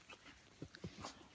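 A litter of four-and-a-half-week-old puppies gives out faint, brief whimpers and small yips, a few soft whines in quick succession over quiet room noise.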